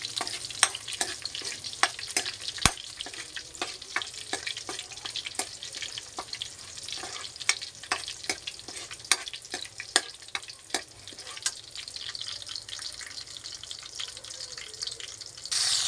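Garlic sautéing in oil in a pan, a steady sizzle broken by frequent sharp spatula scrapes and ticks against the metal, no one speaking.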